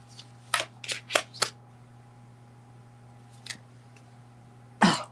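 Tarot cards being shuffled close up, a cluster of four quick riffling bursts followed by a faint one and a final louder shuffle after a pause, over a low steady electrical hum.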